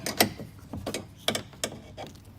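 A wrench ratchets on a 10mm nut while a Lotus Evora power window motor is fitted, giving a handful of sharp, irregular metallic clicks up close in a quiet space.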